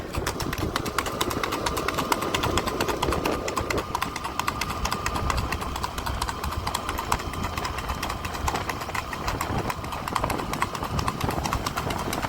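Horse being walked out again after about a month, with steady clip-clop of hooves heard continuously against a background hum of idling engine noise, fairly close.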